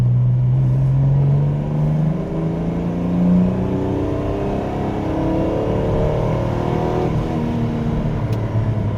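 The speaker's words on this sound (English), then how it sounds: "It's like driving a new Ford Capri 280." A Ford Capri 280 Brooklands with the later 5-speed gearbox drives along, its engine droning steadily and close, pitch rising and falling through the gears, with no talk.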